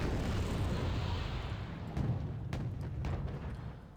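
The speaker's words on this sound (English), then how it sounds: "Mortars firing some smoke on the enemy infantry, trying to block our line of sight." Mortars firing smoke rounds in the war strategy game Wargame Red Dragon, muffled booms and dull thumps rising out of a dense, steady rumble of distant battle noise.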